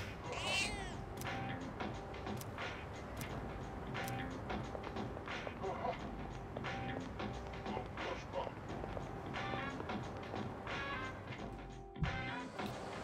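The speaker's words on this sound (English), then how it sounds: "Oh, a kitty!" A cat meows in the video game Persona 3 Reload, a few short high mewing calls heard at the start over in-game music and background sounds, while a person talks.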